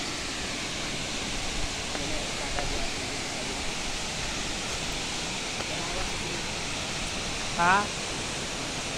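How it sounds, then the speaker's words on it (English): Talostos Waterfall rushes as a dense, steady broadband roar that fills the whole scene at moderate distance, with a brief voice heard near the end. "Introducing Talostos Waterfall."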